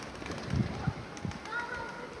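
Tumbler pigeons coo softly in a few short, faint calls amid an outdoor backdrop with distant voices.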